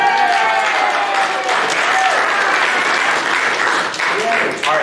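A church congregation claps and cheers for graduates at a Sunday service, loud, dense applause with scattered whoops and voices over it, held throughout.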